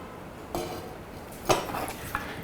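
Metal clinks and clatter as a lid goes onto a pot of Sri Lankan green bean curry, a few brief close knocks with soft cooking noise beneath.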